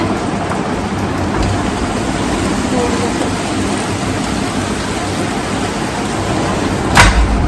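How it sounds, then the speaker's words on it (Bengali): Heavy rain pours steadily at night during a hot rainy spell, a dense constant roar that holds through the whole stretch, with a brief louder burst near the end. "আর এদিকে ঝমঝম করে বৃষ্টি হচ্ছে"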